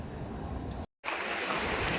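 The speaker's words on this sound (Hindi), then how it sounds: "देख रहे हो हम दोनों को बारिश का मज़ा ले रहे हैं।" Steady rain falling outdoors, a dense broadband hiss that cuts out briefly near the middle and then returns at the same loud, even level.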